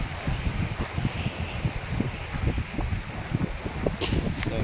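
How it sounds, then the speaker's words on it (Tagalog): Gusty wind buffets the microphone in uneven bursts at a bitter gourd farm, a rough rushing noise with rustling, continuous and close. "So grabe ang lakas ng hangin."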